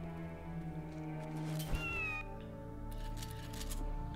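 A cat's meow rings out clearly in Left 4 Dead 2 modded gameplay, a single drawn-out call over steady game music and background tones, with no talk.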